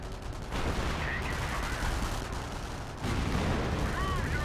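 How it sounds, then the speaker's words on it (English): A howitzer shot in a real-time strategy video game, heard amid a dense, continuous wash of battle noise and gunfire-like crackle, with a sharp shift in intensity partway through. "And now this howitzer shot"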